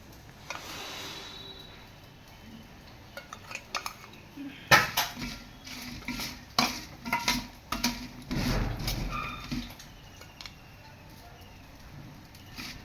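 Mango pieces are tossed with spices in a bowl for a Bengali mango oil pickle, with close, irregular clinks and scrapes of utensil against dish and soft patter over a quiet background.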